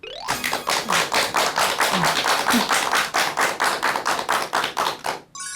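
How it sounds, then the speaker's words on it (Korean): An audience at a lecture show claps in unison, a loud, strongly rhythmic beat of about twenty sharp claps at a quick, even pace, fading out abruptly near the end. "여러분 큰 박수 부탁드립니다"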